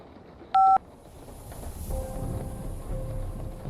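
Telephone call sound effect, a short bright tone burst from a phone, followed by a faint electronic hum with thin sustained tones over quiet background noise.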